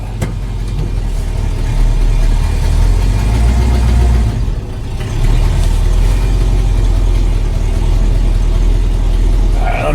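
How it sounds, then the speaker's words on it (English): A 1971 Pontiac LeMans T-37 engine runs loud and close with a low, rough rumble and a raspy, puttering exhaust note from an exhaust leak, briefly dipping before resuming. "Looks like he's got a little bit of an exhaust leak."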